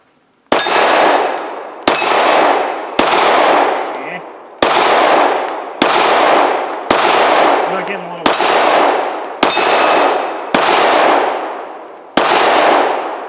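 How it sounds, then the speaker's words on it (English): Smith & Wesson Performance Center Shield Plus pistol fired at targets about 10 yards out on a range: ten loud, sharp shots at roughly one-second intervals, each with a ringing decay, with no talking. "going to start shooting here"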